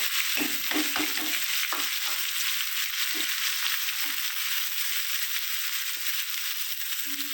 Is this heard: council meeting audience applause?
no